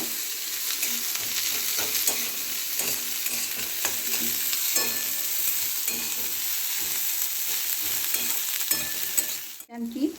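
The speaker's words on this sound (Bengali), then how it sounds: "এবার আমি একটা বড় পেঁয়াজ কুচকে রেখেছি দিয়ে দিলাম একটু লালচে লালচে করে নেব" Chopped onion fries and sizzles in a pan for a masala dosa filling, with a steady close hiss and repeated scraping stirs throughout and a louder clatter near the end.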